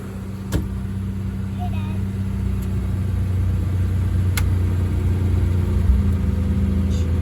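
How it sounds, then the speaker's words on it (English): A 1962 Mercury Monterey Commuter station wagon engine, fitted with a Pertronix ignition kit and a choke not quite right, runs with a steady close low rumble, spitting and sputtering unevenly with a few sharp pops. "Yeah, she's spitting and sputtering right there."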